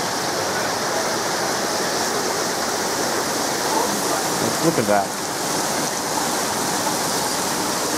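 Heavy rain pours down steadily during a thunderstorm, a dense, constant wash of noise filling the whole clip, with a voice speaking briefly partway through.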